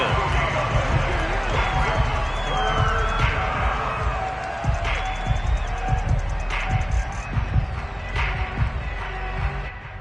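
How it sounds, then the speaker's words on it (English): Crowd at a Giants at Cowboys football game in a stadium, a loud continuous roar of cheering swelling in waves under commentator talk. "Crowd getting in it a bit already."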